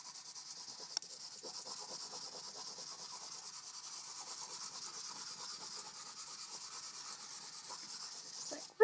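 A pencil scratches across paper in quick, continuous sketching strokes for a landscape drawing, steady and fairly faint, with one small tap partway through and a louder knock at the very end.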